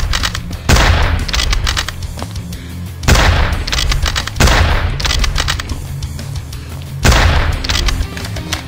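Four loud sniper rifle shots boom in a survival video game set in the mountains, each with a long rumbling tail, spaced irregularly a few seconds apart with no talking.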